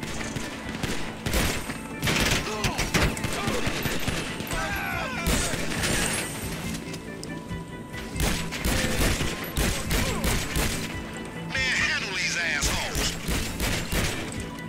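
Shotgun fire in the video game GTA 5 Online: loud, rapid, overlapping blasts and clattering mechanical sounds run steadily throughout, with occasional voices underneath.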